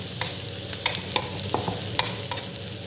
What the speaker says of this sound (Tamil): அப்போ தான் வந்து ஆனியன் கொஞ்சம் நல்லா சாட்டே ஆகும்